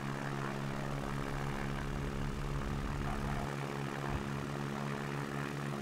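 Propeller aircraft engine at full power in the X-Plane 11 flight simulator during a STOL takeoff at Valdez, a steady loud droning roar with strong low harmonics holding constant throughout.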